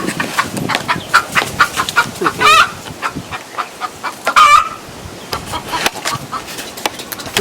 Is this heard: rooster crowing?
yes